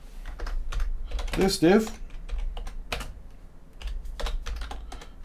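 Quick, uneven clicks of a computer keyboard as someone types HTML code, running throughout under a person talking.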